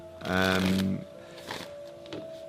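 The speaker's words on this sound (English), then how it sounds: "That was a very violent shuffle there." Tarot cards are shuffled hard in one quick burst of riffling, followed by fainter card handling while a voice talks.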